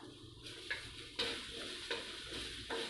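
Mushrooms stir-fried in a wok over lowered heat, a steady broadband sizzle broken by several sharp scraping strokes of the spatula, close and alone with no voices.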